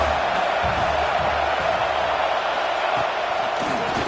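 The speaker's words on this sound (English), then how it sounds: "this crowd is turning it up a notch." A packed football stadium crowd at a Virginia Tech at Oregon game roars steadily, a dense, continuous wall of cheering and noise with no breaks.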